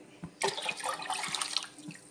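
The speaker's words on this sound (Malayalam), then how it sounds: "എല്ലാ വെള്ളം കൂടെ ഒഴിച്ചിട്ടുണ്ട്." Water pours steadily into a pot of ground rice flour with a broad splashing rush that starts abruptly and keeps going, close by, with no talking.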